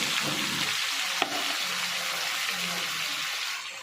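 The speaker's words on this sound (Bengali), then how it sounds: "মশলাটা ভাজা ভাজা হয়ে গেছে এবার পেঁয়াজ আর টমেটোটা" Chopped onion and tomato hit a pan of fried spices for a Bengali ghugni curry, giving a steady, close sizzle and crackle that runs evenly throughout with one brief sharp tick near the middle.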